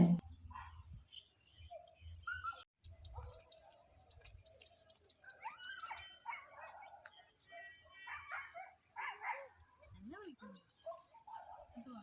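Abandoned puppies yip and whimper in short high cries scattered over the clip, fairly faint outdoors in a village near Bathery, with crickets and low background noise.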